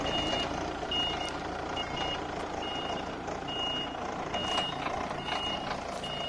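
Warning beeps repeat at a steady, regular rhythm as an industrial forklift reverses slowly during operator training, over a constant loud engine and machinery rumble.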